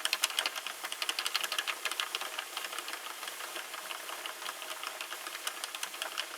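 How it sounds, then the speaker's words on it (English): A Sentro knitting machine being cranked slowly gives off a steady stream of light, rapid mechanical clicks and small pops, close and fairly quiet, with no voices. "I'm going to just slowly start cranking. Don't want to anger my machine. But I already hear this popping sound"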